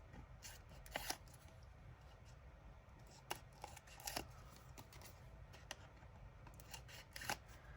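Scissors snip a playing card specimen for junk journal crafting, giving a quiet series of short, crisp cuts at an uneven rhythm against a faint hiss, close to the microphone with no talking.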